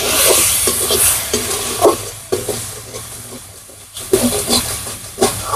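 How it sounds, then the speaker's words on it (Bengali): Bay leaves frying with chilli powder and spices in a hot pan, a steady sizzle and hiss under repeated scraping stirs, close and fairly loud. "তেজপাতা দিয়ে দেবো। নেড়ে নেব।"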